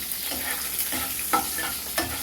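Slit green chillies and panch phoron frying in hot oil give a steady, close sizzle, with a few soft stirring scrapes over it.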